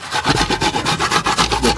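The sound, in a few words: grating coconut flesh for coconut candy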